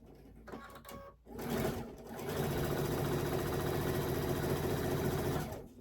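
A domestic sewing machine stitching quilt pieces, starting after a brief stutter and then running steadily with a fast, even mechanical rhythm, close and fairly loud with no talking.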